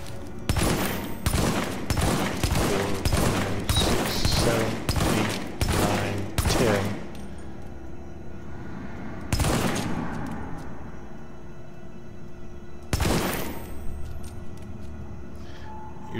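Rapid gunfire bursts from a Predator-mode shooter game ring out under a counting voice, followed by two separate loud blasts with trailing decay, like in-game explosions.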